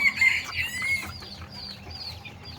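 Chickens raised on a small farm cluck and squawk close by, a short burst of shrill calls over low background rustle.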